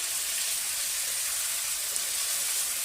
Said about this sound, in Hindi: अच्छी तरह से हम इसको भून लेंगे।